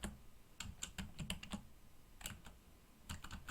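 Keys clatter on a computer keyboard while text is entered in Cricut Design Space, with quick close clicks in short irregular bursts separated by brief pauses.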